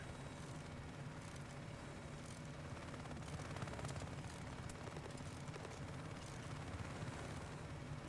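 Small helicopter in the Battlefield 6 video game, a steady close rotor roar and engine drone that carries throughout with crackles of distant gunfire and blasts layered on top.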